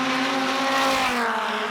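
Dodge Viper race car at full throttle on track at Gridlife South 2019, a steady loud engine drone with a rising then easing pitch as it drives close by, no voices.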